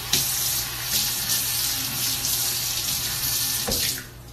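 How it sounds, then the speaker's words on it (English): A glass is rinsed under a running kitchen tap, giving a steady, close rush of water splashing into a sink, with a slight change in the stream near the end. "Rinse it with some water quickly and put it in the freezer."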